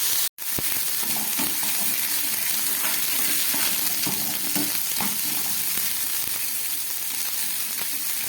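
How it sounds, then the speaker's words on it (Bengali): A spice paste of ginger, chilli, onion and garlic sizzles loudly and steadily in a hot pan, a continuous close frying hiss with faint stirring scrapes underneath. "খুব ভালো করে মশলাটা একটু ভেজে নিচ্ছে।"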